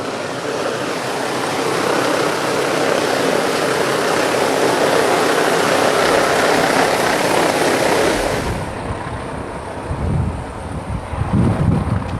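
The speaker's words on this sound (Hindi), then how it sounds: "हेलीकॉप्टर अब जो है हेलीपैड पे लैंड करने को तैयार है।" A helicopter comes in to land on a helipad at a political event, its loud, steady rotor and turbine roar dominating for several seconds before the whine drops away and the rotor chop turns to lower gusty thumps.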